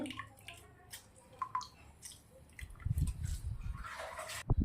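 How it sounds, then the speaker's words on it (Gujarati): A lemon is squeezed by hand into bottle gourd juice, giving faint wet drips and squelches followed by a louder, denser squishing stretch, close and quiet with no talking. "હવે જ્યુસના અંદર આપણે લીંબુ નીચવાનું છે"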